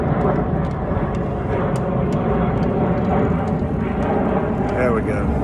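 An aircraft flies overhead in Washington, DC, a broad low rumbling roar that stays steady throughout, with outdoor background noise and faint voices mixed in.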